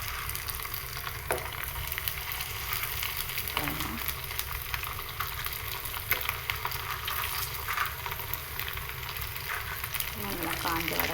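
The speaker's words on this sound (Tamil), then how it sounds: "நல்லா காஞ்ச வடகத்தை எடுத்து எண்ணெயில் போட நல்லா பொரியுதுங்க" Dried vadam fry in hot oil with a constant dense sizzle and crackle, close up, with occasional stirring clinks.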